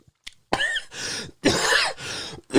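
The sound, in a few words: fake cough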